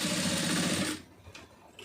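A sewing machine stitches piping onto a lined blouse with a loud, steady, rapid whir for about a second, then stops, leaving faint handling noises close by.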